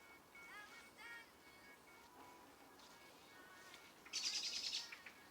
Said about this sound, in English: So we've got a bird sounding off.